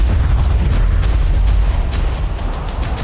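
The explosion on the Deepwater Horizon oil rig comes through as a deep, continuous roaring rumble, loud and sustained throughout with no clear onset and no voices.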